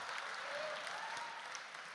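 An audience at a charity awards gala claps in a steady, dense wash of applause that holds at an even level for the whole span, heard from a distance.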